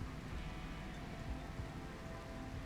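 Rain in the Rimworld video game, a quiet steady patter of falling rain with no voices.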